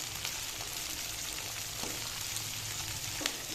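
Shallots, garlic, ginger and onion frying in oil for a fish curry: a continuous dense hiss with a few soft stirring ticks, steady and fairly quiet.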